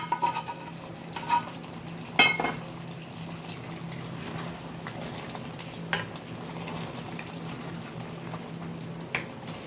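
Fried capsicum and tomato are stirred into a simmering chicken makhani gravy: soft bubbling throughout, broken by a few sharp spoon clinks and scrapes against the pan, quiet and close.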